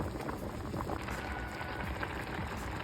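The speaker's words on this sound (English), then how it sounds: "you can see the water is evaporating" Water boiling hard in a pot of rice on a stovetop, a steady close bubbling and crackling fizz that continues evenly with no voices over it.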